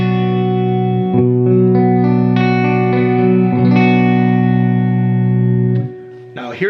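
Clean electric guitar chords ring out one after another, sustained and clear, with a dry, steady tone and no wavering modulation.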